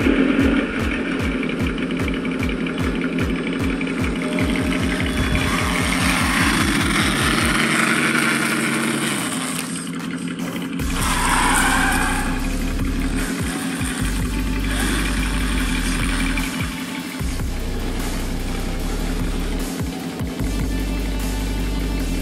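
A Traxxas Undertaker RC mega truck starts with a fast sputtering crank that builds into a steady motor whine and rumble, revving and holding loud and close for the rest of the stretch with no talk.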